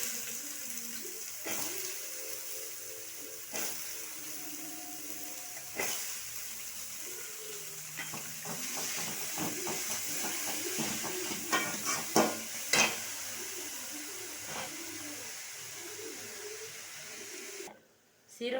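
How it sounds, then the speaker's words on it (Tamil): Banana stem sautéing with onion and green chili in a pan, a steady soft sizzle broken by sharp clinks and scrapes of a stirring spoon, with quiet talk through most of it. "நல்லா வதங்கினதுக்கப்புறம் வாழைத்தண்டை போடணும்."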